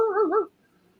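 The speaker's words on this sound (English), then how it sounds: "A little dog barking in the back." A small dog gives a short whiny yelp-bark with a wavering pitch, about half a second long, fairly close and alone, then quiet.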